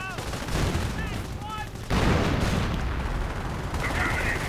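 StuG 42 assault gun firing in Company of Heroes, heavy booming cannon shots and gunfire crackling through a dense battle din, with a commentator talking over it.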